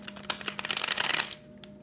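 A deck of tarot cards is shuffled up close, a quick run of soft riffling flaps lasting about a second before a brief quiet tap.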